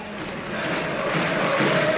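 At a university assembly, a large crowd roars with cheers and chanting as an architect arrives, a dense, continuous wash of voices that grows slightly louder.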